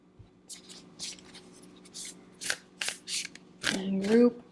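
Tarot cards are shuffled and drawn by hand in a run of soft papery flicks and slaps at close range, with a voice briefly speaking near the end.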